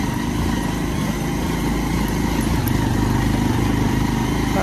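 A motorcycle engine drones steadily and loudly while riding along a narrow, rough hill road, a continuous close engine roar with no speech.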